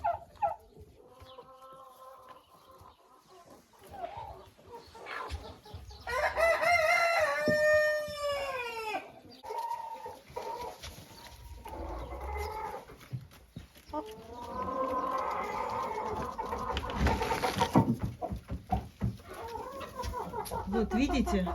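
A rooster crows and calls among clucking hens in a henhouse, with several long strained crows rising over scattered clucks while someone talks nearby.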